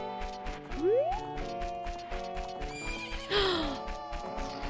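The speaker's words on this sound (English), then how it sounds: "Oh, is it this baby horse? It's totally this baby horse." A baby horse in The Legend of Zelda: Ocarina of Time gives two rising, squealing whinnies over steady game music and a regular clip-clop of hooves.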